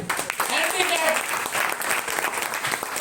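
Audience applause in a lecture hall for a Paralympic gold medalist, brief dense clapping with voices talking over it.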